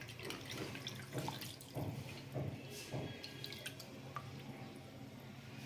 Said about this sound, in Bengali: দুধটা ঢেলে নিচ্ছি।